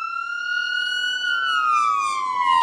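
A wailing ambulance siren, responding to a prison riot at the California Men's Colony, sweeps slowly downward in pitch, loud and continuous, with no voices over it.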